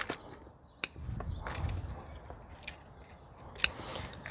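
Disinfected scissors snip off fungus-damaged, curled leaves of a pepper plant, giving two sharp, close metallic clicks a few seconds apart, with soft leaf rustling and handling in between.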